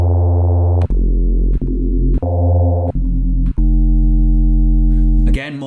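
Sustained Reese-style bass synth notes for UK garage, deep harmonic stacked tones played in a series of held chords separated by brief gaps, loud and alone with no voices.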